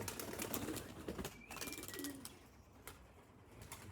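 A pigeon coos a few times from some distance, soft and intermittent, with light background chatter and outdoor noise at a racecourse.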